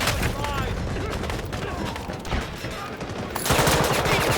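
Gunfire rattles in a Delta Force video game battle, bursts of shots crackling over a busy mix with radio-style voice lines, swelling louder near the end.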